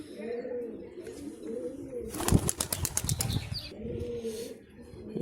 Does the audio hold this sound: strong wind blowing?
no